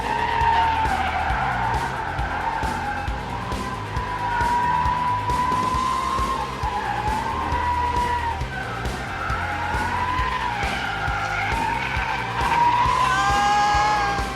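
A Chevrolet Trailblazer SS built as a drift car slides through a course, its tires squealing in long, wavering howls over the loud engine roar, continuous and close for the whole stretch.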